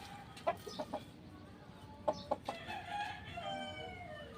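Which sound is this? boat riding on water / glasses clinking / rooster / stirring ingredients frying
rooster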